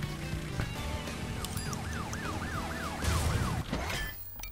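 Police car siren in Crash Bandicoot 3: Warped, a wailing, rapidly rising and falling siren of about eight cycles over busy game noise and clatter, moderately loud and then fading.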